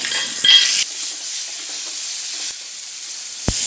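Curry leaves dropped into hot oil in a frying pan while making a noolappam (string hopper) dish, a brief bright sizzle at first that settles into a quiet crackle, then a sharp clink of utensil on pan near the end.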